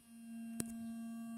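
An Honor 9X phone's vibration motor buzzes in a diagnostic test, giving a steady low hum that holds for over a second, broken by a single sharp tick.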